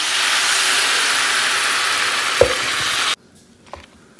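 Water poured into a pan of frying soybean curry sets off a loud, steady sizzling hiss of steam that runs for about three seconds, then cuts off abruptly, leaving faint clinks.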